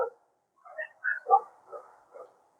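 Dogs bark and yip in a few short, spaced bursts, moderately close, with nothing else going on between them.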